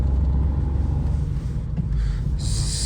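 A Citroen C3 hatchback drives along with a steady low engine rumble and road noise heard from inside the cabin, a brief hiss rising near the end.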